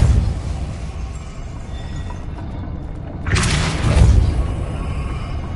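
A Depulso spell is cast in the fantasy game Hogwarts Legacy, producing a sudden whooshing burst and boom that swells over a steady mechanical background rumble, then fades, with no voice over it.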